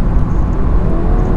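Seat Leon Mk3 1.8 TSI from 2014 in sport mode, its engine note piped through the cabin speakers as a loud, steady low rumble with no voices over it.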